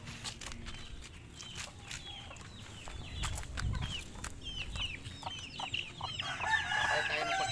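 Chickens and a rooster cluck repeatedly around a farmyard, short overlapping calls at close to mid distance over steady outdoor background noise, with a few footsteps and no talking.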